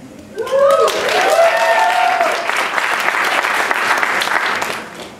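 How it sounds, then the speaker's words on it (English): Audience applause at a film event following a screening, dense and sustained clapping from a large crowd filling the room, with brief cheering voices rising at the start before the clapping settles into a steady roar. "Then not as many clapping for Antoinette"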